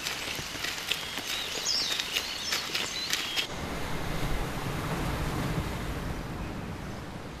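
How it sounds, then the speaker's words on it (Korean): Ocean waves wash onto a Korean shoreline with a steady, broad rushing surf, joined by faint bird chirps and light crackling early on before settling into continuous wave noise. "파도 소리 잘 들려요?"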